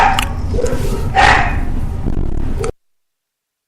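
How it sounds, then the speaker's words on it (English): Dogs at home bark in short repeated bursts over about two and a half seconds, fairly close and loud, with a louder peak in the middle before cutting off abruptly. "My dogs are weighing in there."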